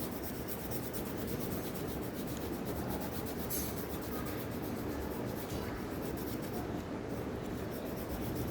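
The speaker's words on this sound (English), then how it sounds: "It's a grey coloring, so I'm using a pencil for coloring it grey." Pencil shading grey across paper, a steady close rasping rub that runs continuously without pause.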